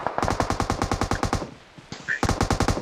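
Rapid automatic gunfire in PUBG Mobile, loud bursts of evenly spaced shots that pause briefly before another burst resumes.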